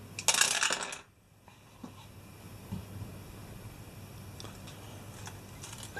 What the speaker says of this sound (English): let's roll the dice and see what we will come up with.